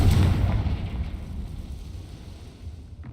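A Confringo spell explosion in the video game Hogwarts Legacy bursts with a heavy low boom at the start, then rumbles and fades away over a few seconds.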